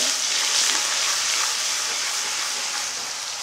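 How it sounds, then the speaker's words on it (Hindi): Onion goes into a pan with dry fish and fries with a steady, bright sizzling hiss that stays loud and even throughout, with no talking. "ये डाल दिया प्याज"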